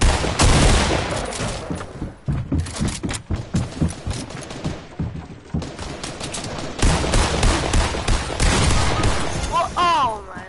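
Rapid bursts of gunfire crackle in a squads shooter video game, heavy volleys broken by short gaps, with voices talking over the shooting.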